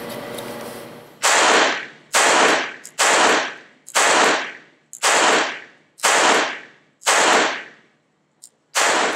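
Seven sharp revolver shots from a short-barrel Ruger LCR .22, fired in a steady rhythm about a second apart outdoors, each crack loud and followed by a brief decay, then a pause and one more shot at the end.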